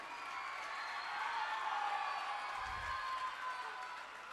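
An audience at a world records award ceremony in India claps in a broad, even wash that lasts throughout, moderately loud with a faint low thump midway.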